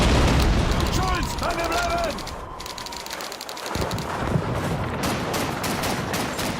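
Tank cannon fire and explosions in the World War II shooter Call of Duty 2, heavy booms and rattling gunfire filling a dense, loud battle mix, with a distant voice and radio-like chatter partly under it.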